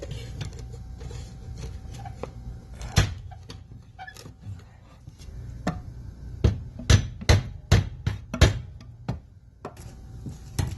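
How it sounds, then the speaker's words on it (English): Sharp metallic clicks and snaps as garage door opener mounting brackets are snapped onto the door rails, several in quick succession, with lighter knocks and handling noise between them, close by. "snap the mounting brackets onto the door rails"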